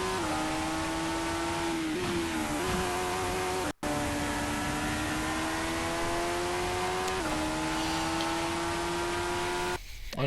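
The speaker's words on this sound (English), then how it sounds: "We're on board with the number 11 Toyota Gazoo racing car." Number 11 Toyota Gazoo race car in a racing video game, heard on board as a steady high-pitched engine drone holding near-constant revs with small shifts in pitch, loud and continuous, with commentary voices faint underneath.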